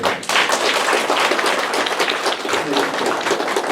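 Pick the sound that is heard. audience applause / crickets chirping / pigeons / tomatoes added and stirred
audience applause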